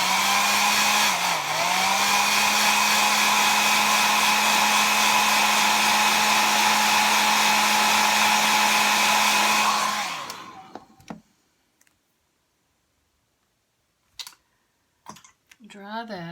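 A hair dryer blows at close range with a steady, loud whir while drying paint on a flower painting, then switches off, followed by a few faint clicks and small handling sounds.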